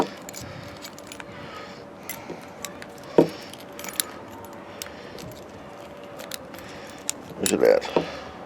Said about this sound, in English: let's go swap them out on the key ring.